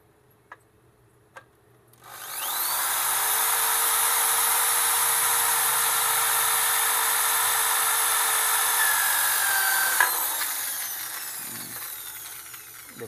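A power drill bores into a 2-inch well jet pump nozzle, first a couple of faint clicks, then a loud sustained high whine for about eight seconds that ends in a knock as the motor winds down.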